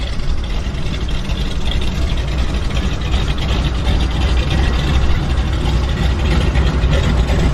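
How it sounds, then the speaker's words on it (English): A 1957 de Havilland Beaver floatplane's radial engine idles at a float base, a loud, steady, rough low drone that runs unbroken throughout. "Love that round engine sound."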